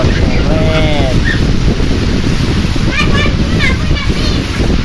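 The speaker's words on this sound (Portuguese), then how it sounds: "Eita, chuva chovendo." Heavy rain pours down in the sertão of Rio Grande do Norte, a dense, steady roar of drops close to the microphone with gusty wind mixed in, continuing without a break.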